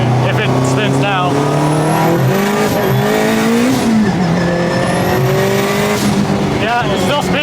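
A Honda Civic Type R accelerates hard on the street, its engine note climbing loudly through the gears as the front tires spin and squeal, with a brief shift partway through and voices beneath the roar.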